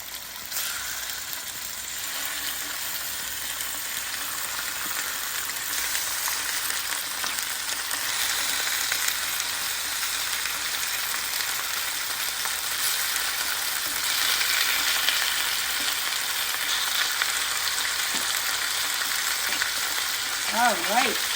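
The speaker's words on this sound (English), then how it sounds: "things are sizzling. That means we're ready for chicken." Chicken fries on the stove in a hot pan, a steady, close broadband sizzle that runs unbroken for about twenty seconds and swells slightly partway through, with a few faint utensil clicks near the end.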